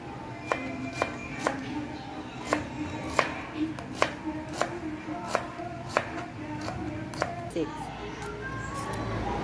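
A knife slicing through cassava leaves on a board, giving a steady series of sharp, close chopping taps roughly every half second, with faint background noise.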